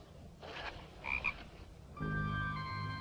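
Frog croaking in a horror film, a loud, steady chorus of harmonic croaks that starts about two-thirds through and keeps going to the end. Before it come fainter bursts of other sound.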